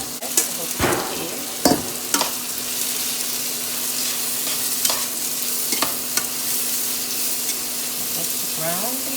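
Mushrooms fry on high heat in a pan with a steady, close hiss of sizzling, broken by a few sharp scrapes and clatters of stirring. No one speaks.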